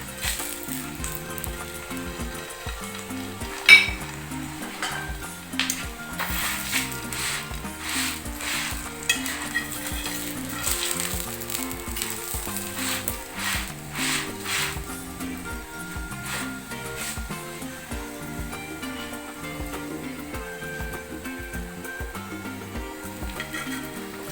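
A jaggery-stuffed paratha frying in a pan over raised flame gives a steady, close sizzle for the whole stretch, with a sharp knock early on and faint, continuous low tones running underneath.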